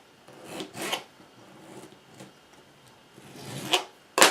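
A knife chopping half a tomato finely for a feta cheese salad, a few quiet rasping cuts on a board followed by a sharper knock at the end.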